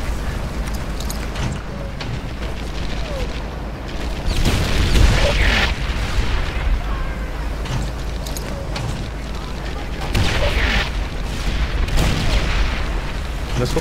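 Heavy wartime explosions boom in Medal of Honor Airborne, a loud, continuous battle din with big blasts near 4-5 s and again around 10-12 s, tank and artillery fire layered over constant rumbling.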